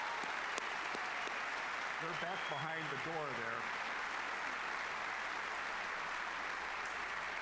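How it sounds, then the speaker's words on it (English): Steady, dense applause fills a large space throughout, with someone speaking over the clapping partway through. "How about a round of applause for those ladies?"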